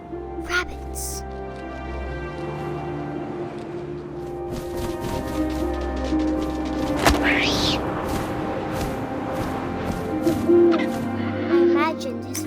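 An owl hooting in the video game What Remains of Edith Finch, low hoots beneath a calm narrating voice with a soft wind bed behind.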